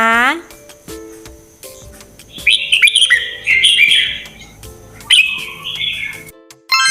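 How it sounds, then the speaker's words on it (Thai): Bright bird chirps and tweets in quick bursts, with a short musical jingle tone at the start and low background sounds throughout. "ถูกต้องแล้วค่ะ เสียงพี่นกเองค่ะ"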